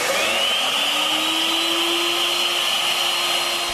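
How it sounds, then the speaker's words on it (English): A wood router cuts a test piece on a router table, a steady loud high whine with a rising pitch at the start, continuous and alone. "Now we'll test the cut for pathway length."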